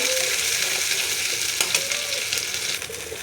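Pointed gourd mash stir-fried over a high gas flame, a steady loud sizzle with scraping spatula strokes and a few sharp knocks, close up with no voices.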